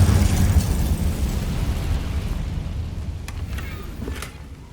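A Confringo spell blast in Hogwarts Legacy: a loud booming burst with rumbling low end that slowly decays over a few seconds, followed by faint crackling debris.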